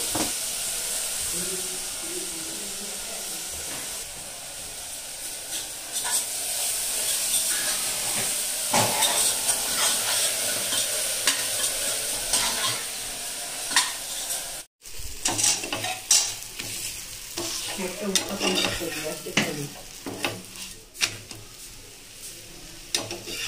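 Okra is stir-fried in a pan into a salted dry vegetable dish, making a continuous close sizzle broken by repeated scraping stirs, with one short pause midway and no voices.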